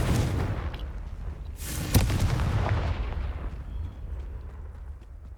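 A fire spell explodes in the Hogwarts Legacy video game with one heavy, rumbling blast. Its crackling, roaring tail fades away over several seconds above a low background rumble.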